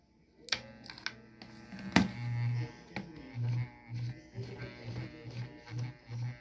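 An electric fan motor that hums without spinning gives a pulsing, uneven buzz that swells and fades in short bursts, preceded by a few sharp taps and clicks, close by and without talk.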